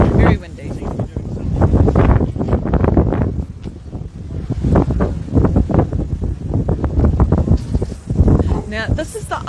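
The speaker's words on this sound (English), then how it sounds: "Ooh, very windy, very windy." Strong outdoor wind at a parliament grounds occupation protest, gusting and buffeting the microphone in loud bursts while someone talks throughout.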